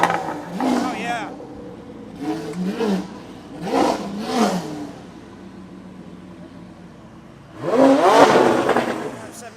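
Supercars at a holiday party gathering rev their engines in four loud bursts, each rising and falling sharply, with the last rev longest and strongest; quiet gaps between bursts carry faint background chatter.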